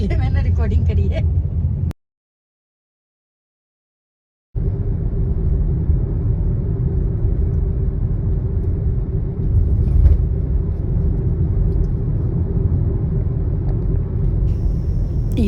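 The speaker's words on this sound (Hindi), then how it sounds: "और अब मैं सोऊंगी और शर्मा जी गाड़ी चलाएंगे।" A car travels at night on a Rajasthan road near Kishangarh, its engine and tyres making a steady, loud interior rumble that briefly drops out, with people talking over it.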